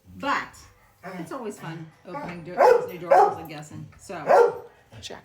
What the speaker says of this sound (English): Sorry for the loud dog.